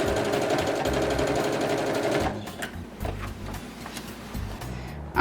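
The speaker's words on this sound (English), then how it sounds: "now I've stitched along all of these lines" Sewing machine stitching quilt lines, running in a loud rapid rhythmic whir for about two seconds, then stopping, followed by scattered softer clicks and handling noises close by.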